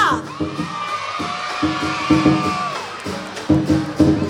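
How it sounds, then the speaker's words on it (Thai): Crowd at a lion dance performance for a lion dance sports association's 50th anniversary opening ceremony cheers and whoops loudly in repeated bursts, with a long shout over the noise. "ขอเสียงดังๆกองเชียร์มาเลยค่ะ"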